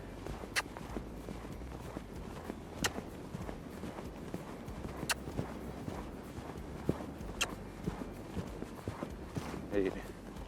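Horse hooves thud softly on arena ground during reining pattern practice, an irregular rhythm of muffled footfalls with a few sharper knocks, heard at moderate distance amid light background noise.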